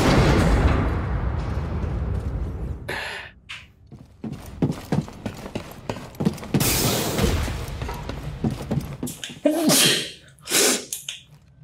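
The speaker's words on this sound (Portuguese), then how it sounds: "Coisa de espirro justo agora." A character sneezes in the Xbox game Star Wars Jedi: Fallen Order, a loud close burst amid game sounds of clanks, creaks and footsteps, with a couple of sharp bursts near the end.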